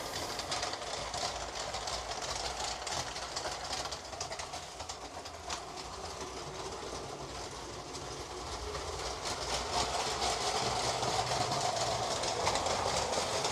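A LEGO city toy train runs around its track with a continuous light rattling clickety-clack and faint motor whir close by, growing slightly louder toward the end.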